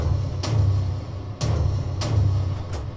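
Drums run through a Scream 4 distortion unit and heard on their own, giving a steady loud gritty low-end drone with a few sharp hits punching through it at irregular intervals.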